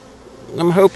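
A honey bee swarm being caught more than 20 feet up drones loudly and steadily, its buzzing swelling in suddenly after a quiet start and staying close and dense to the end.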